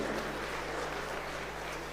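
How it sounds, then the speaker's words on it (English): An audience at a national convention of tax practitioners claps after a speech, producing a dense, steady wash of applause that holds evenly throughout. "please give Anand Ranganathan a huge round of applause"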